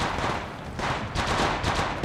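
Automatic gunfire hits the player during an Apex Legends Mobile ranked match, with Flatline rifle shots rattling in dense, loud bursts that swell and fade over a couple of seconds.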